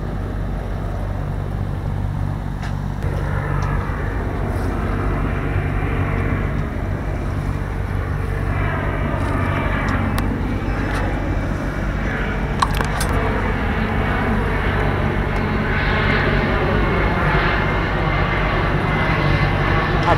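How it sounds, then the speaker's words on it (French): A large military plane roars overhead in a steady, loud rumble, blended with wind and waves at sea, the engine noise swelling slightly as it passes. "Et là, celui-ci, ça a l'air d'être un avion militaire."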